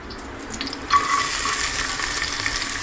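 Onions drop into hot oil and whole spices for palak pulao, setting off a sudden loud sizzle that holds as an even, close hiss with no voice over it.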